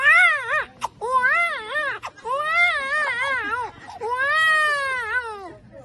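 A human voice imitates a baby crying, with a series of rising and falling wailing sobs broken by short breaths, loud and close, and no other sound.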